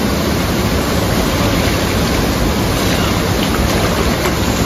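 A small waterfall at the mouth of a cave pours in a loud, continuous, close-up rush of cold water that fills the whole scene, with no voices over it.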